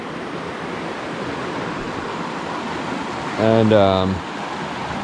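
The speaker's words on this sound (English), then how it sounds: "Made it down to the creek. It's beautiful." A creek flows as a steady broadband wash through the whole stretch, with a brief spoken word rising over it near the end.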